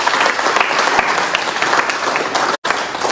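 Steady applause from a crowd celebrating a pétanque gold medal, dense clapping throughout with one abrupt brief cutout near the end.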